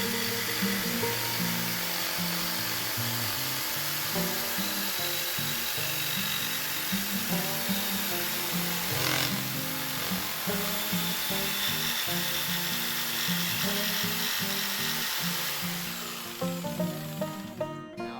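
A jigsaw saws through a clamped wooden board with a steady, loud, continuous buzzing rasp that runs almost without a break, then eases and stutters near the end as the cut slows.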